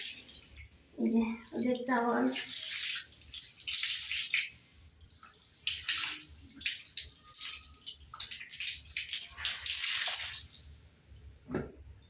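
Clothes and bedsheets being washed by hand, with repeated splashing and sloshing water bursts through the clip, loud and close, while someone speaks over the early part.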